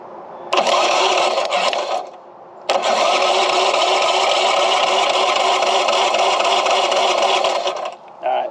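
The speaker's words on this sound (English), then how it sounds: "And when I do that, it'll turn the starter." Starter motor on a Craftsman LUV riding mower cranks in a short whirring burst, stops, then cranks again loudly and steadily for about five seconds before cutting off, close by.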